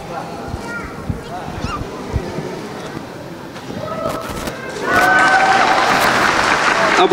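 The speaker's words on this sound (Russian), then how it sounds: "Аплодисменты." Applause at the opening of a new stadium at a school sports complex, building from scattered sound and murmuring voices into loud, sustained clapping from a crowd outdoors.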